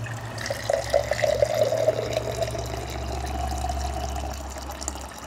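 Water pours steadily from the spigot of a stainless steel Dinuba jerry can, a continuous close splashing stream with a steady fill tone under a low background hum, no talking.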